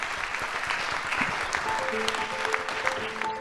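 Steady applause from a conference audience at the CNOSF in Paris welcoming Nobel laureate Muhammad Yunus, a dense patter of clapping that holds at an even level throughout with a faint tone in the background.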